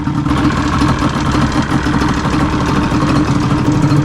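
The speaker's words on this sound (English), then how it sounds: "And it's idling right away." Up close, a rebuilt Yamaha Banshee four-wheeler sits idling, its engine putting out a loud, constant, slightly uneven throb with mechanical clatter and no voices over it.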